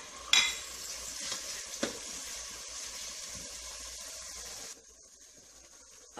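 Chicken pieces frying in hot oil in a cooking pot for berkoukes: a steady close sizzle with a few sharp clinks of a utensil, dropping to a quieter hiss near the end.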